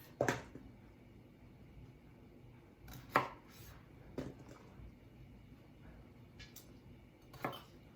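A knife halves Brussels sprouts on a cutting board. Four sharp, separate chops sound close up, spaced a few seconds apart in a quiet room, with no talking.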